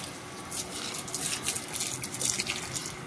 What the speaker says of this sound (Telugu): మొక్కకు వాటర్ వేసేస్తున్నాను